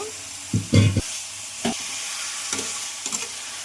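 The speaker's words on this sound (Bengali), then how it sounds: "মশলা কষানো হয়ে গেছে এবার আমরা মাংস দিয়ে দিচ্ছি চিকেনটা চলে গেল" Chicken pieces drop into a pan of cooked-down spice masala with tomato, setting off a steady sizzle punctuated by a few thumps and scraping stirs, close and moderately loud.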